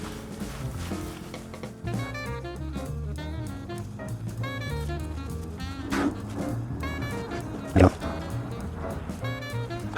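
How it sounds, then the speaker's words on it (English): Dogs bark at a home where an outdoor loop antenna is being repaired, a few sharp barks and yips popping out over a cluttered background with a voice talking. "Oh, there's the dogs."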